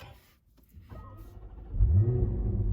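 A supercharged V8 in a 2016 Jaguar F-Type R starts up, quiet at first and then swelling into a loud, deep, steady burble close by.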